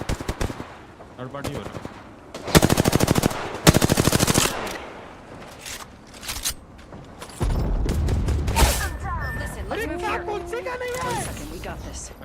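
Gunfire in Apex Legends rings out as loud rapid automatic bursts with scattered single shots and mechanical clicks, while several people talk over the action.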